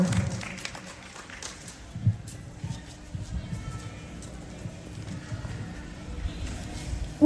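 Students and teachers clap for a book presentation at a school. The applause is light and scattered, with uneven claps and a murmur of voices, fairly faint throughout.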